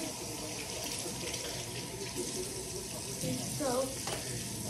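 Tap water runs steadily into a sink during handwashing, a broad continuous rush close by with brief splashy changes near the end.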